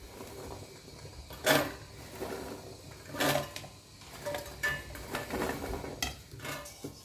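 Corn kernels are tipped into a large mixer jar, making a few sharp clinks and rattles against the container between quieter rustling handling sounds, close and fairly soft with no talking.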